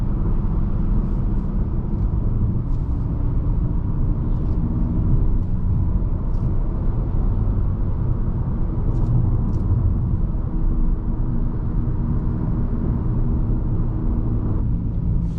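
A 2021 Nissan Altima SR AWD cruising in normal drive mode, with a steady low engine and road rumble and tyre hum throughout, no talking.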